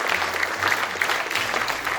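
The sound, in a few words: round of applause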